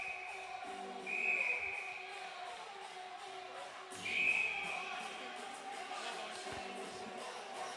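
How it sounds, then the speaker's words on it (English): A referee's whistle at a high school ice hockey game, two shrill blasts about three seconds apart over arena crowd murmur, with a voice talking throughout. "The official blowing his whistle there"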